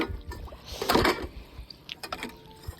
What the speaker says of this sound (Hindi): तो अभी हम धोते हैं बर्तन